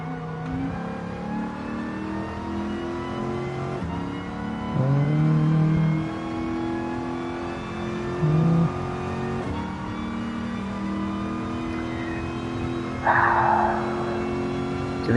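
Race car engines in the GT Sport racing game, a sustained mid-pitched engine drone with revs climbing and shifting over it, and a few short bursts rising above, with no talk.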